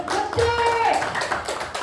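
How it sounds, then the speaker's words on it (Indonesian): Short burst of audience hand clapping at a marketing presentation, brief and uneven claps mixed with talking voices over it. "tepuk tangan dong buat Greenwood"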